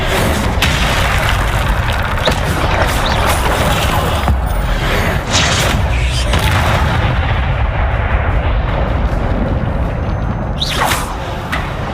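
Incendio fire spell cast in the Hogwarts Legacy video game, a loud, dense, continuous roar and crackle of flame and blasts that fills the whole stretch without pause, with a sharp burst near the end.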